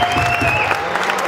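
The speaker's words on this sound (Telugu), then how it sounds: "Please give the all the sponsors a big round of applause." Audience applause at a Detroit Telugu Association Diwali celebration, steady clapping filling a hall for a continuous stretch at full strength.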